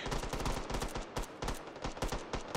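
Rapid gunfire in the VR shooter Hot Dogs, Horseshoes & Hand Grenades, a dense burst of many sharp shots in quick succession, loud and close, with a few heavier cracks standing out through the volley.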